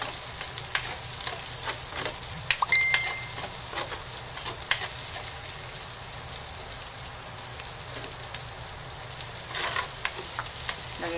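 Garlic, onion and tomato with tomato paste sautéing in a pan, giving a steady, close crackling sizzle with scattered pops and occasional stirring clinks, continuous throughout with no talking.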